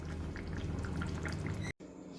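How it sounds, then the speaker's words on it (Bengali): Cooked jackfruit and prawn curry poured from one pot into another, a thick wet gloop and drip over low background hum, cut by a short dropout near the end. "এটাকে এবার আমি অন্য পাত্রে ঢেলে নেব।"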